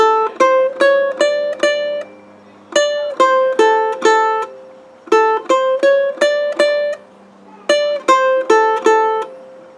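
Electric guitar picks a surf riff on the lowest strings, clean repeated groups of quick single notes in a steady driving rhythm, played alone with short pauses between phrases.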